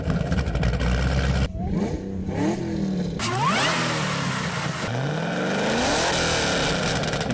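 A heavily modified, supercharged Camaro ZL1 V8 revs hard several times, the rising and falling engine sweeps loud and close, with a deep rumble between blips and no talking.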